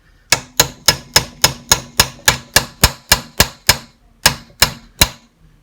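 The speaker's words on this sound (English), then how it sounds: "brass punch and brass hammer" A brass hammer striking a brass punch on a pistol part held in a vise, about fifteen sharp metallic taps in an even rhythm with a brief pause near the end, loud and close.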